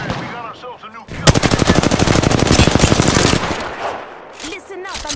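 Gunfire from the video game Apex Legends: a long, loud burst of rapid automatic fire lasting a couple of seconds, with talk just before it and further speech around it.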